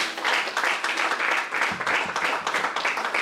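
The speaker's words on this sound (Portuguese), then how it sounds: "bater 3 salvas de palmas em gesto de agradecimento" A church congregation at a Sunday service claps in dense, loud applause, the clapping swelling in rhythmic waves as if in successive rounds, continuous throughout with no talking.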